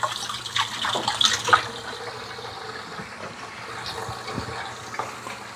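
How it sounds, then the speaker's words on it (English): A tap runs while hands are washed between kneading egg into dough, making a close splashing water sound that is a little louder at first, then settles into a softer steady trickle. "Just wash my hands again."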